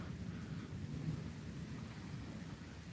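A low, faint rumble of distant thunder rolls on continuously during a lightning storm, with soft rain underneath.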